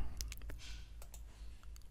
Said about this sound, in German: Moment, ich klicke mal mit rechter Maustaste drauf.